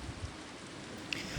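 Rain falls at night in a garden, a soft, even hiss of drops with a couple of slightly louder taps, steady and calm.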